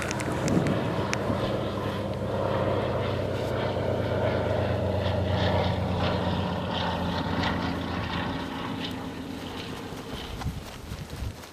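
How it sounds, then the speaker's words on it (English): A propeller airplane drones overhead, a steady low hum that swells and slowly fades over several seconds, with some light rustling nearby. "I noted the time of day this plane flew over"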